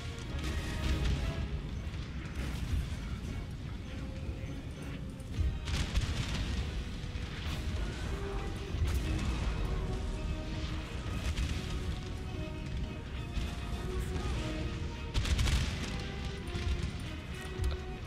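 Repeated booming cannon blasts in a Napoleon: Total War battle, several heavy thuds spread across the stretch over a dense layer of background noise and music.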